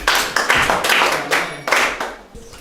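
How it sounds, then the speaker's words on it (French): A small group claps in short uneven bursts in a classroom-style peer educator training session on youth drug prevention, with several separate rounds of hand claps and thumps close by. "On peut applaudir pour lui."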